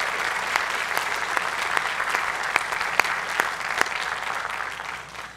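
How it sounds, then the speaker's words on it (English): An audience at a high school athletic hall of fame induction gives a full, sustained round of applause with individual sharp claps standing out, and it slowly thins toward the end. "one more round of applause for our 6 Hoover High School class of"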